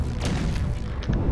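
Ships explode during a space battle in the strategy game Endless Space 2, a short run of deep muffled booms and thuds rolling under a steady low rumble.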